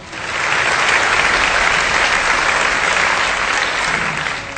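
Audience applause swells quickly into a loud, dense, sustained wash of clapping that holds steady for several seconds before easing slightly at the end, with no speech over it.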